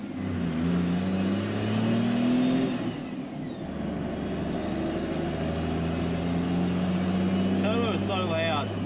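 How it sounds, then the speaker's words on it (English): A turbocharged 1HD-FTE engine swapped into a Nissan Patrol revs on a dyno, a loud rising engine roar with a whistling turbo spool sweeping upward, easing off and building again while people talk over it. "Turbo is so loud."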